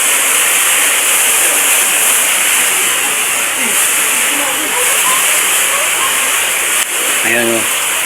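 Flood water rushes loudly at high tide during Typhoon Carina, a constant roaring hiss close to the microphone, with a person speaking briefly near the end.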